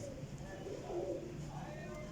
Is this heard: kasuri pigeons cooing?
yes